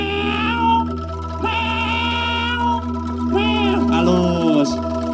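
A performer at a church evening event mimics a cat, voicing several drawn-out meows in a row, loud and close, with a low steady hum underneath.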